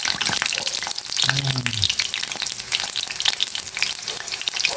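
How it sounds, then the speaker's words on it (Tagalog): Eggplant sizzles and spatters in a hot frying pan for home cooking, steady and close, with brief stirring scrapes and a faint voice in places. "Dito na tayo mag-prito"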